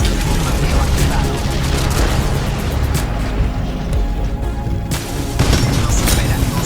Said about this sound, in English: Bombardeo activado.